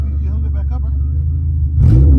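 A Honda Civic EG sedan with a swapped H22 engine idles steadily under someone talking, then revs up loudly with a throaty roar from the exhaust.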